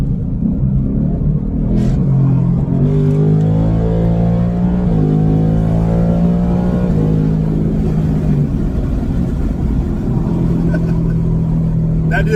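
A 2024 Ford Mustang GT V8 revs in manual mode: the engine climbs and falls in a loud, close roar, with another brief surge near the end.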